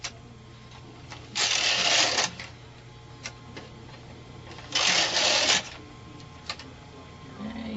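A Bond knitting machine carriage being pushed across a row, two bursts of loud rattling clatter about a second long, separated by quieter clicks and light handling noise, close by with no talking.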